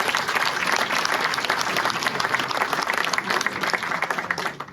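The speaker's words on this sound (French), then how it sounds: "Vous pouvez l'applaudir, s'il vous plaît." Audience applause at a live stand-up comedy show in a large arena, a dense wash of clapping sustained for several seconds before it tapers off at the end.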